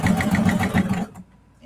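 Sewing machine stitching clear vinyl for a project bag, a rapid close rhythmic hum of stitches for about a second before stopping into near quiet.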